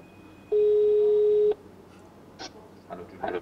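A single steady ringback beep of about one second sounds through the hands-free calling system of a 2022 Ford Fiesta, followed by a quiet car cabin with a few faint, brief noises.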